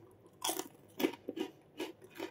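Crisp fried dried danggit fish being chewed up close, a series of about five sharp crunchy bites spaced in an uneven rhythm, quiet and alone in a silent room.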